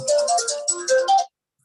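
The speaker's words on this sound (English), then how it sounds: "That is a very creative ringtone." A phone's playful, creative ringtone chimes loudly through a run of short bright melodic notes for just over a second during a committee meeting, then cuts off to silence.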